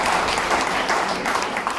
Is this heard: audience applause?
yes